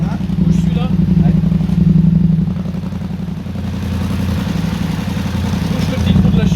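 A new Yamaha R7 motorcycle fitted with an Ixil exhaust idles steadily in a garage, a low, even engine rumble running throughout while people talk nearby.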